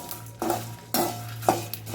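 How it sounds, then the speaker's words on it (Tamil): Dry masala spices being roasted in a pan for chicken gravy, with three distinct scraping stirs of a spoon against the metal pan over a low steady hum. "இப்போ மசாலாவை நம்ம நல்லா வறுத்துட்டோம்"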